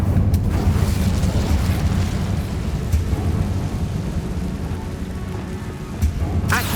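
A fire spell cast in the video game Hogwarts Legacy roars as a loud, continuous rumbling blast, dense and steady throughout, with a sharp burst flaring near the end.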